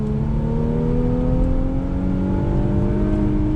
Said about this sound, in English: We're in the 2019 Infiniti Q50, say it with me, Red Sport 400 on throttle.